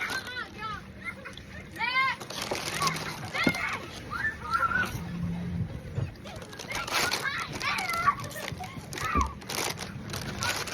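Water splashes and sloshes as a child comes down a water slide, with several short splashy bursts mixed among children's voices and chatter close by.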